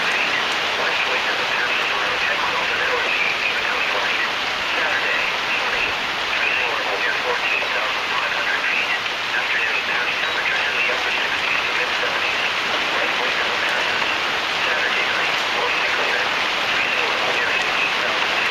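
Heavy rain pounds down steadily during a Tacoma, Washington thunderstorm with hail, a dense, continuous roar of water close by that never lets up.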